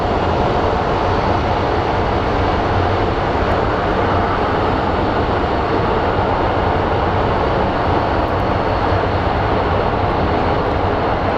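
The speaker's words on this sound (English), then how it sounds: "Here we have the Air Canada 737." Air Canada Boeing 737 jet at Phoenix Sky Harbor International Airport, a loud steady broadband engine roar that holds unbroken and close throughout, with no talking.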